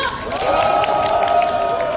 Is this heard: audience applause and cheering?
yes